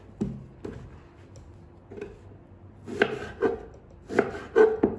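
A knife cuts peeled eggplants in half on a cutting board, producing a few sharp, close chopping knocks spaced irregularly, with quieter handling noises between them.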